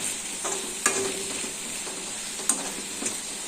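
Onions frying in a pan on a low flame while being stirred, with a low continuous sizzle and a few light scraping clinks of the spoon against the pan, no voices.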